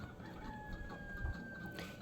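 Faint chicken clucking against a quiet background hum, with a thin steady tone running underneath.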